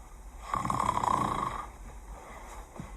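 A woman reading a picture book aloud imitates a sleeping granny's snore: one soft, drawn-out nasal snoring breath, close and quiet, with no words over it.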